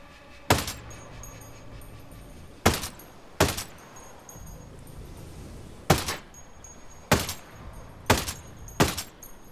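Seven sharp, loud gunshots ring out from a rifle in the video game Ghost Recon Breakpoint during an Extreme Mode mission at Camp Tiger, irregularly spaced over a quiet background with faint steady game ambience and no talking.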